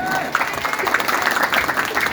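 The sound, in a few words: applause at an orphan charity religious gathering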